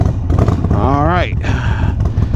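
A motorcycle engine runs close by, a loud continuous rumble with a brief rising and falling whine in the middle, while a person speaks over it.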